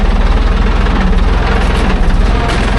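A heavy tractor engine idles steadily up close, a low throbbing rumble with a constant mechanical vibration throughout.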